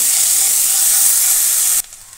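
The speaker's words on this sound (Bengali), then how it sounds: "এবার আমি পেঁয়াজটা সুন্দর করে ভেজে নেব।" Chopped onion fries in a pan with salt, making a loud, steady bright sizzle that cuts off abruptly near the end, with no talking.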